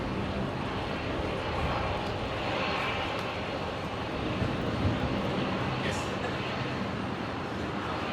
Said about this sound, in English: that might be the 737 with the broken brake sensor